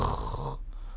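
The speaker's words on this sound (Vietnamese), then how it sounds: "Cô đang ngáy, ngủ say lắm rồi." A woman asleep in a home setting gives one brief, close snoring breath, a rough rasp that fades into near silence.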